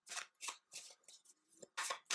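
Tarot cards are shuffled by hand in a series of quick, crisp riffling bursts, close and fairly quiet, with short pauses between them.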